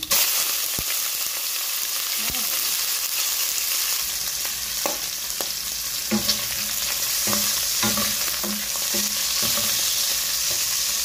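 Onion and garlic sauté in a pan with a steady, loud frying hiss, while intermittent spatula scrapes and taps punctuate the sizzle, close to the mic.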